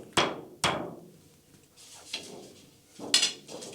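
A used tom drum head struck twice in quick succession, each hit sharp and close with a short decaying low ring, followed by a few lighter taps and knocks.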